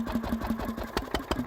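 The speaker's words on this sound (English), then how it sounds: "when the engine drops below a certain speed, the governor kicks in and opens it up again" A governor-controlled stationary steam engine runs steadily at a steam rally, giving a regular low chugging beat with periodic sharper exhaust puffs, close and continuous.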